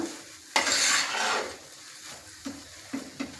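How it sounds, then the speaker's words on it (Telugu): A spoon stirs ghee through a warm mung dal and coconut filling for poornam boorelu in a pan, giving a broad scraping swish followed by a few short knocks and scrapes against the pan. "నెయ్యి వేసుకున్నాం. ఇప్పుడు మొత్తం కలిపేసుకుందామండి."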